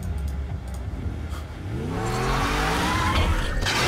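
An Audi's engine in the Need for Speed Undercover racing game revs up loudly, pitch sweeping upward as the car accelerates, with a steady roar and tire noise building in the second half.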